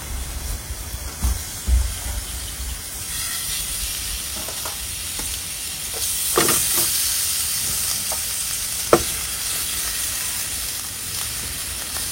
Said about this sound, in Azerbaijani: Onun üçün bunu indi quru-quru qızardırıq,